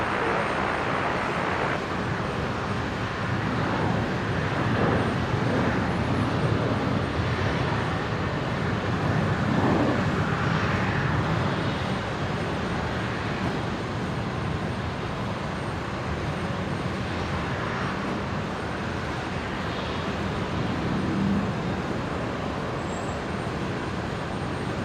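Jet airliner on final approach to land on runway 01 right at Brisbane Airport during a busy Friday afternoon, a steady broadband engine roar that holds loud and continuous throughout with no voices.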